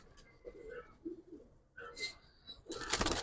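Giribaz silver and colored pigeons on a rooftop coo and flutter close by in short, uneven bursts, with faint voices in the background.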